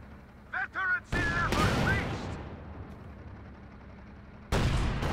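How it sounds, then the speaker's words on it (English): In the Company of Heroes 2 video game, a Panther tank fires on a Jackson tank destroyer, heavy cannon blasts landing near the start and again near the end amid battle noise and brief game voice barks. "it takes us about maybe 4 shots to kill the Jackson"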